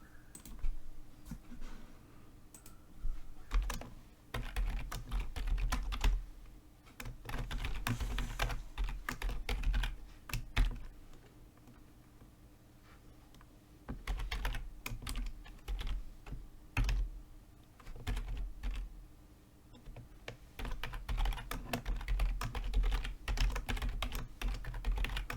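Code being typed on a computer keyboard: close, quiet clicky keystrokes in rapid bursts separated by short pauses, continuing throughout with no speech.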